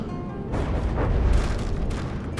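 Heavy ship weapons in the naval combat game From the Depths fire from the Hessian Heat, making loud, continuous booming blasts that roll and overlap without a break.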